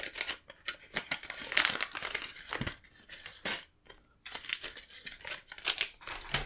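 Paper crinkles and rustles in bursts of close, crisp crumpling as it is unwrapped to take out a small circuit board, with brief pauses between handling sounds.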